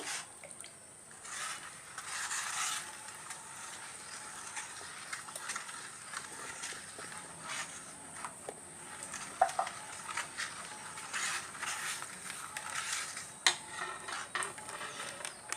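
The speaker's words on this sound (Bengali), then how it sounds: "এখন ভালোভাবে মিশিয়ে নিচ্ছি।" Milk and milk powder are stirred in a bowl for a khir filling, a soft continuous swishing and light scraping with a few faint clinks, close and quiet throughout.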